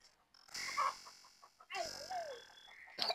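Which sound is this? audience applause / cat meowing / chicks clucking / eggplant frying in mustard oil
chicks clucking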